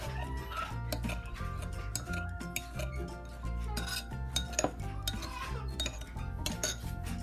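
Pork pieces are stirred with potato starch in a bowl, giving repeated clinks and scrapes of a utensil against the dish in an irregular rhythm, close and fairly quiet, with no voices.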